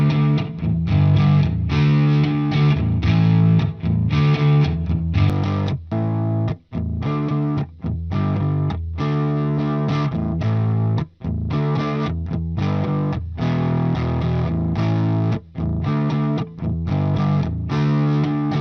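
Distorted electric guitar run through the Nadir cabinet simulator plugin, loud chugging riffs with short rhythmic stops, played alone.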